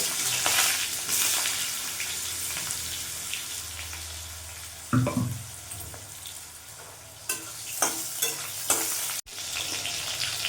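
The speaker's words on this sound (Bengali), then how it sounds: "ওই তেলের মধ্যে আমি বেগুনগুলো ভেজে নেব" Eggplant pieces frying in hot oil after fried lentil dumplings, a steady crackling sizzle punctuated by spatula scrapes and clanks against the pan, close and moderately quiet.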